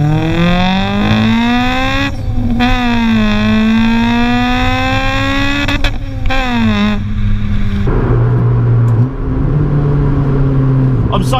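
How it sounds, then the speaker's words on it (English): A Honda EK9 Civic Type R four-cylinder VTEC engine revs hard through the gears on track, rising pitch sweeps repeating with brief dips at shifts, loud and close from inside the cabin, with tire and road noise beneath. "There's the Vtec."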